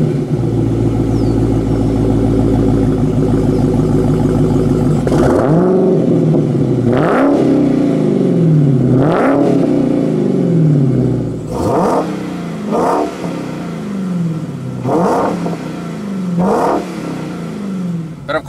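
A Dodge Challenger Hellcat with stock exhaust idles with a deep rumble, then is revved hard about six times, each loud roar rising and falling back to idle.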